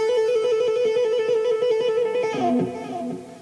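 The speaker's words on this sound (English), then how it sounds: "When you put them together, you get what's called a musical trill" Guitar notes alternate rapidly in a fast, even trill of hammer-ons and pull-offs, ringing loud and clear, then end with a brief strum that fades.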